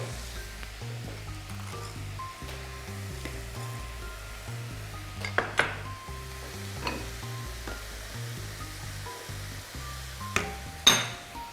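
Mushrooms fry in a pan with a steady, close sizzle, joined by a few sharp clinks and taps of a utensil against the pan. No one speaks.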